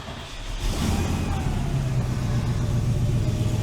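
A TVR V8 engine cranks and catches after sitting for 2.5 years, settling into a deep, steady rumbling idle close to the car.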